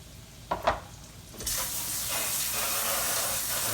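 Breaded yellow squash slices frying in hot oil for old-school fried squash: a couple of soft knocks as pieces go in, then a sudden loud, steady sizzle that keeps going with nobody talking.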